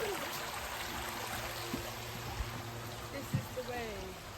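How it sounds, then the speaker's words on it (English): Small stream running through sculpture gardens, a soft continuous trickle and flow at low level with a few faint knocks and footsteps, no talking. "Nice little stream here running through the property."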